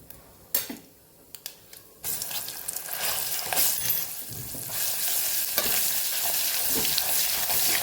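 Hot oil sizzles loudly after a few sharp clatters, the crackling spreading and holding steady as asafoetida and garlic chutney are stirred in; no talking.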